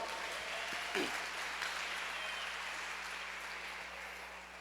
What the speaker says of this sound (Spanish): Gloria, dele palmas al Señor, hermano.